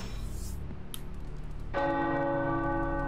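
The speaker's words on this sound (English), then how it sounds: "The tower bells are ringing." Tower bells ring in the video game Marvel's Midnight Suns: after a few faint chimes, a loud bell strike swells and sustains with rich, lingering tones to the end.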